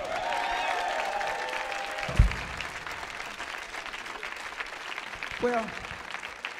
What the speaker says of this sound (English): Get a band a round of applause.